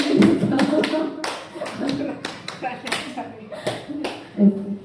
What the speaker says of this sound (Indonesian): Tepuk 1, 2, 3. Tepuk 1, 2, 3 kali.